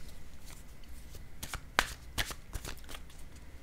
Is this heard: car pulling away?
no